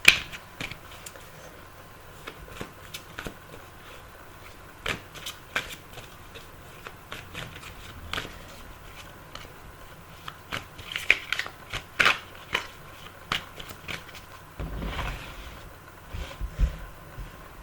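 Tarot cards being shuffled and drawn on a table, soft scattered flicks, taps and card slides at close range, quiet and irregular throughout with very faint talk.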